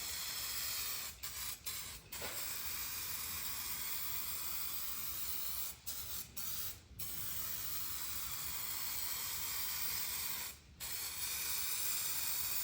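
A spray paint can lays down a clear coat in steady, continuous hissing passes, broken by several short pauses between strokes, fairly quiet and close.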